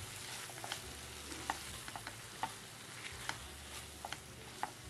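Prawns fry with soy sauce and ginger-garlic paste as they are stirred, producing a steady close sizzle broken by light scraping and tapping from the stirring.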